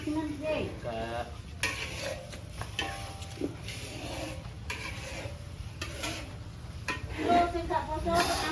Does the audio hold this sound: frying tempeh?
yes